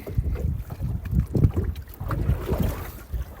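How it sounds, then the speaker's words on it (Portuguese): Strong wind buffets the microphone during kayak fishing, a loud, gusty low roar that rises and falls close up. "Ventando pra caramba."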